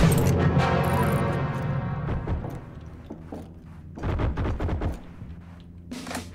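Gunfire in the Heroes & Generals video game: a sustained loud burst of rapid automatic shots fades into scattered distant bangs, then a second short volley and a final sharp crack.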